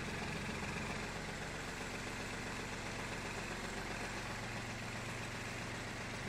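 Yanmar F-220 mini tractor engine idles steadily, a dense close-up diesel chug with a constant pulsing rumble throughout and no voices.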